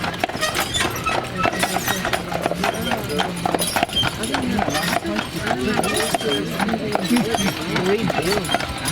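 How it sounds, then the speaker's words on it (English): Three big horses pulling a tour carriage on Mackinac Island, hooves clip-clopping in a steady rhythm while a guide talks over them. "is pulled by 3 big horses"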